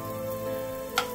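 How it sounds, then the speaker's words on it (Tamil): Cut cashews fry in oil in a pan over a medium flame, giving a steady soft sizzle with a single brief sharp crackle near the end. "நல்ல கோல்டன் பிரவுன் கலர் வர வரைக்கும் ஃப்ரை ஆகட்டும்"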